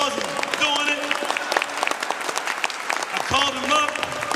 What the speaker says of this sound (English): can we get that brother a round of applause for doing it?